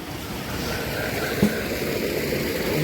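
Water from a running motor pump gushes steadily into a small farm tank, a continuous broadband rushing roar with no pauses or voices.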